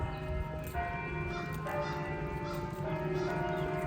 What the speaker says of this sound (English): I love hearing those bells going off in the distance